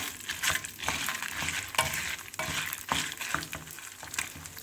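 Urad dal fries in a pan for a ground chutney, a steady moderate sizzle with scraping stirs and intermittent crackles as the lentils are turned, close and without voices.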